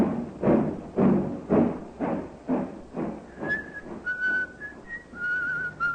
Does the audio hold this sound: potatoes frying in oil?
no